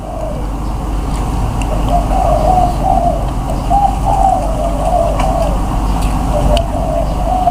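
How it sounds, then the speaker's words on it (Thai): Repeated soft cooing of a dove rises and falls steadily throughout, moderately close, over a constant low background rumble. "เห็นไหมได้ยินเสียงนกเขาปะครับ"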